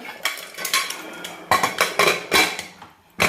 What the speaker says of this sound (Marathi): तर आपण आता लावू कुकरचं झाकण